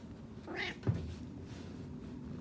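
A single short cat meow in a room during a bag-sewing session, fairly faint and alone, followed by a brief soft knock.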